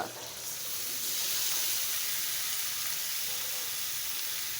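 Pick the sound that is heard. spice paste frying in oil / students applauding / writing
spice paste frying in oil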